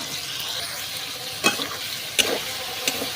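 Jada seed spice paste frying in a pan, a continuous bright sizzle broken by three sharp stirring knocks, close and without talk.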